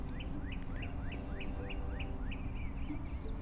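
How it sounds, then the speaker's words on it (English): Several birds sing in a backyard, one repeating a short bright chirp at an even rhythm with other faint calls behind, all fairly distant over a soft steady background hum. "listen to the birds"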